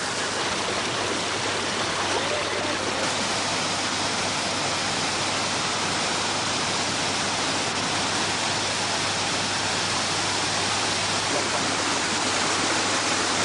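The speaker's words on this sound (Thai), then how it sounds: "เราเริ่มพบน้ำตกที่มีขนาดความสูงตั้งแต่ 1 เมตร จนถึง 12 เมตรมากมาย ประมาณ 72 แห่ง" Waterfalls tumbling down a rocky mountain stream at the source of the Chi River in Thailand, a steady, loud, dense rush of water that continues without pause and with no voices.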